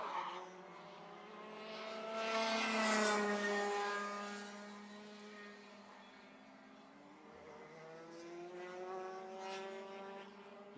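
Rotax Heavy racing karts at Warwick run down the straight during a race final, their engine note a steady droning whine that swells to a peak and then eases, heard continuously without talk.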